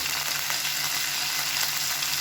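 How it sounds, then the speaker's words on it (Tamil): Curry leaves, mint and coriander sauté in hot oil with a loud, even, unbroken sizzle throughout, close up, with no speech. "இது எல்லாத்தையுமே வதக்கி விட்டுக்கலாம்."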